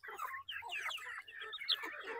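Backyard chickens, naturally brooded rather than incubator-hatched, cluck in quick, choppy bursts close by, several birds overlapping in a busy, uneven chatter.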